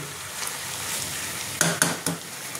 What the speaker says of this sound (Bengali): দেখো চিকেনটা আমি আস্তে আস্তে ভালো করে ভেজে নেব।